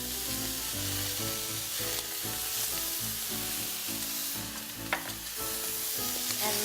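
Sauce with Dijon mustard sizzles and steams in a pan while being stirred, a constant close frying hiss beneath background music.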